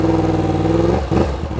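A 2016 Yamaha R1 motorcycle engine runs loud and close at a steady mid-pitched drone, then stumbles and sputters briefly around the one-second mark, sounding weak and uneven.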